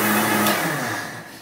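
Mixer grinder powdering sesame seeds and peanuts, a loud close motor whir that holds steady and then begins to wind down.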